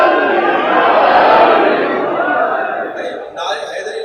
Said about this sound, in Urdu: بھائی بچہ ہی نعرے لگاتے جا رہے ہیں